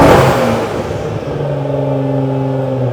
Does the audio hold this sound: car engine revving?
yes